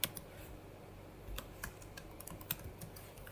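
Code for a Go program is typed on a computer keyboard: scattered sharp key taps in uneven bursts, close and crisp over a quiet room, with no voices.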